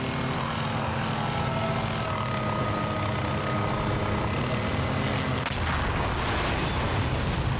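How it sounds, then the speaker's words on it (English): Helicopter in Garry's Mod gameplay, a dense, continuous rotor and engine roar filling the whole stretch at steady loudness, with a brief shift partway through. "It was a helicopter."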